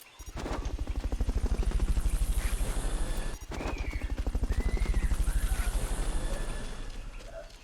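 Helicopter in Metal Gear Solid: Peace Walker video game, its rotor thumping loud and steady in a rapid beat that briefly cuts out mid-clip, then resumes before easing off at the end.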